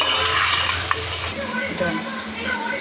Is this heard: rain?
no